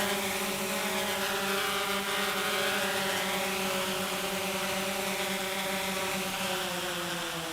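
Autel X-Star Premium drone descending to land, its steady rotor whine holding as a continuous, fairly loud multi-toned hum with no voices.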